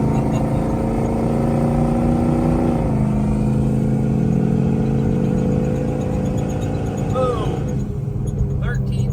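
A bogger truck on stock gears accelerates flat out from a standstill, tires smoking, its engine roaring loud and continuous as the pitch shifts partway through the run.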